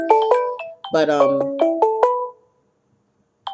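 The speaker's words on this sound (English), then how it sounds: "Sorry about that ringing. I thought I'd turn my phone off." A melodic phone ringtone plays loudly and close, a bright tonal jingle of rising and falling notes for about two seconds, then silence before it briefly starts again.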